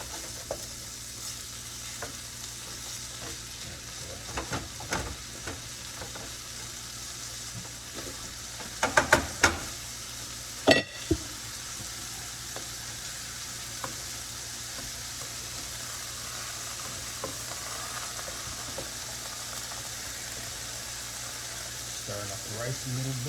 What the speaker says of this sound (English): Stirring up the rice a little bit.